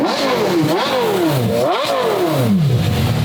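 A Lamborghini SVJ's engine revs hard while parked, climbing and falling in several loud sweeping pulls that are held below its redline, rising to a sustained high note at the end.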